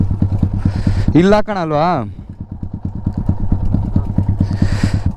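A motorcycle engine idles nearby with a steady, fast pulsing throb that runs through the whole stretch, while a voice talks over it and a brief rising whine cuts in near the start.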